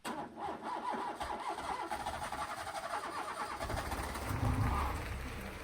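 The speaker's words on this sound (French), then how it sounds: "démarrer avec le démarreur" A Renault Clio's starter motor cranks and the engine catches, settling into a steady mid-pitched idle and a slight rev, heard fairly faint and close with no talk.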